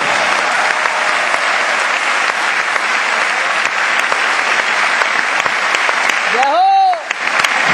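An audience at a Hindi devotional talk claps steadily and densely for nearly eight seconds, a loud continuous wash of hands. A brief sliding vocal tone rises over it near the end.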